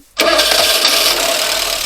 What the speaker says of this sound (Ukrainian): зараз ми вам покажемо, що двигун запускається